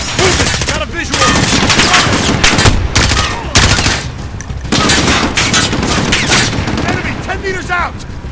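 Machine gun fire in Call of Duty: Modern Warfare, loud rapid bursts repeating over several seconds with short gaps, while soldiers shout over the shooting.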